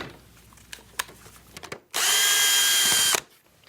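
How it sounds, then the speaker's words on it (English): Power drill backing screws out of a Patio Pacific Endura Flap wall-mount pet door: a few faint clicks and handling knocks, then one loud, steady whirring drill run lasting just over a second before stopping. "Start by removing the top 2 screws."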